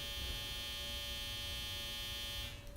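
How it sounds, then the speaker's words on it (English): A clothes dryer drying towels runs indoors with a steady droning electrical hum and constant low rumble, close and unbroken, with no talking. "that's the dryer because I'm drying my towels"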